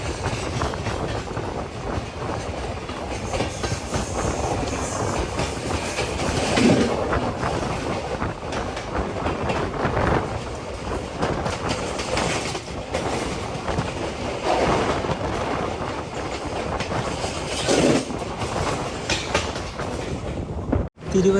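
A train pulls into Thiruvalla railway station in Kerala with a continuous heavy rumble and rattling wagon clatter. Occasional louder surges of wind and movement noise stay close to the microphone, and the sound cuts off abruptly at the end.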